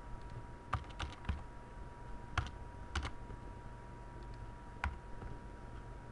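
Computer keyboard keys are tapped while C++ code is edited to add braces, giving sparse, irregular clicks that are close and moderately loud over a steady low background hum, with no voice.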